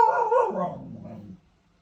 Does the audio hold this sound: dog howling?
yes